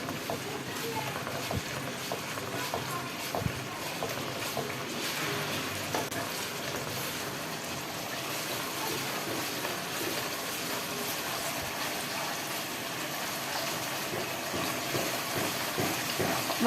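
Masala sizzles and fries in oil with a splash of water while being stirred for a country chicken curry, a steady crackling hiss with scraping spoon strokes and soft knocks against the pan.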